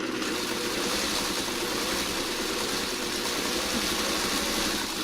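An engine runs steadily at a constant pitch, close and continuous, with a low rumbling hum and no voices.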